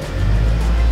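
Car engine running steadily at around 1500 to 2500 RPM, a short, loud, low, even drone heard up close, with no talking.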